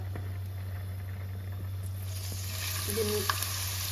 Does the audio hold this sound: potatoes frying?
yes